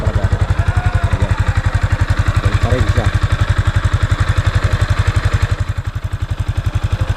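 A Yamaha Sniper 155 motorcycle engine idles close by, its steady, rapid pulsing thrum running throughout with only a slight dip near the end.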